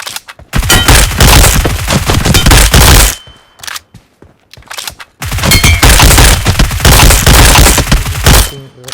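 Video game gunfire at a shooting range, loud rapid bursts of automatic fire in two long volleys separated by a brief quiet gap, close and booming.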